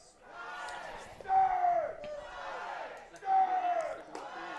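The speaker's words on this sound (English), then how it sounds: "to get a Riptide and a Foresters chant going around the ballpark." A ballpark crowd at a Riptide versus Foresters baseball game chants in rising, drawn-out swells, two big waves of massed voices echoing across the stands.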